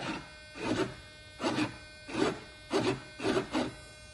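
Servos on an RC Mini Shark 1.7 m sports jet drive the ailerons back and forth on a bench, giving five or six short, even whirring bursts in a regular rhythm, quiet and close.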